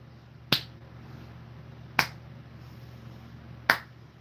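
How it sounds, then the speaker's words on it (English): Three slow, evenly spaced single hand claps ring out alone over a quiet background, each sharp and distinct, roughly one and a half seconds apart. "What do you know? It's a slow clap."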